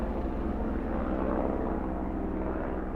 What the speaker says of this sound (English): His helicopter.